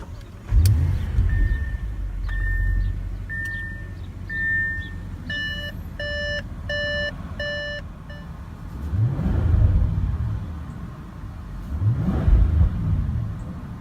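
A luxury sedan starts with a push-button ignition. A series of electronic chimes and beeps is followed by the engine catching, then two strong, rising revs that swell and fall back. All of it is heard up close, with no voices.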